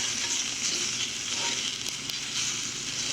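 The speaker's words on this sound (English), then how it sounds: "I like to get the onions a bit caramelized if possible. Soften up those peppers. And obviously cook the chicken" Onions, peppers and chicken sizzle steadily over direct heat on an offset smoker, a loud, continuous frying hiss with no talking.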